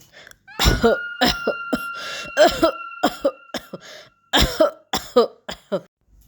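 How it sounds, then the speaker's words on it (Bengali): A cartoon character coughs again and again in a forest, a run of sharp, close coughs with brief pauses between them. "এই জঙ্গলে আবার কে কাশছে কাশের শব্দ শুনতে পাচ্ছি"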